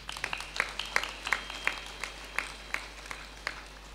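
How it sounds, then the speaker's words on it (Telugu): A small gathering at a spiritual talk claps in a sparse, uneven rhythm, individual claps standing out distinctly over a quiet low hum. "చప్పట్లు కొడదాం."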